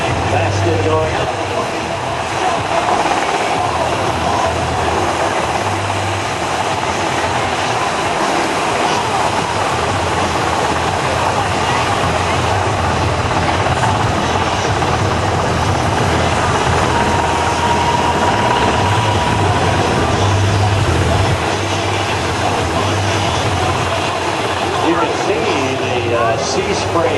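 A Coast Guard MH-60 helicopter with a 49-foot rotor hovers above a 47-foot boat at an ocean airshow, a loud, steady roaring wash of rotor noise and sea spray throughout.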